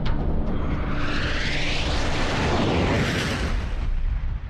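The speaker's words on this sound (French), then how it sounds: "L'impact a déclenché une onde de choc plusieurs fois supérieure à celle d'une explosion nucléaire" Asteroid impact explosion with its shock wave: a massive rumbling blast that swells and rolls on for several seconds, a broad roaring wash that barely fades by the end.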